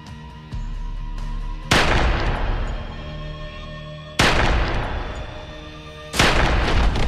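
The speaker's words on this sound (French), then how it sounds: "Une arme est apparue et 3 coups de feu ont retenti." Three sharp, loud gunshots spaced a couple of seconds apart, each with a long ringing decay, over a faint background hum.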